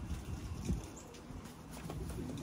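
Faint, soft cooing from a racing pigeon during an unboxing of birds sent for a one-loft race, a low murmur against quiet room background with no talk.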